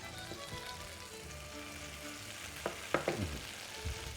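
Mushrooms frying in a hot pan give a steady close sizzle, with a few sharper stirring clatters near the end.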